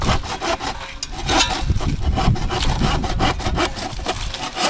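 Rhythmic strokes of a hand saw cutting through wood, a repeated rasping back-and-forth sawing at close range, steady and fairly loud with no talking.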